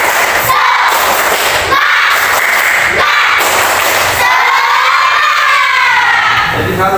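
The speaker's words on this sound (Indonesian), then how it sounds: "Coba tepuk semangat." An Indonesian school class performs a rhythmic clapping chant in the classroom, loud and close, with children's voices shouting along over grouped claps and thumps.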